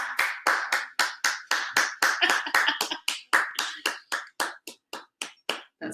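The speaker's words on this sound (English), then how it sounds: "that's my boyfriend clapping in the background." A single person clapping in the background at a live performance event, a steady run of sharp, distinct hand claps at a brisk regular rhythm that thins out and slows toward the end.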